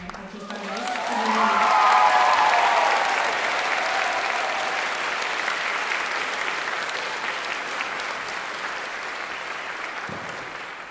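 A concert audience claps steadily for a photographer, the applause swelling early and then holding as a broad, even wash of many hands in a hall.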